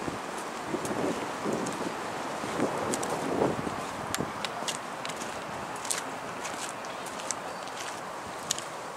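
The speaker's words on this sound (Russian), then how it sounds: "У нас ветер, второй день очень сильный." Strong wind buffets the microphone outdoors on a street in a continuous rushing roar, with occasional faint clicks and footsteps underneath.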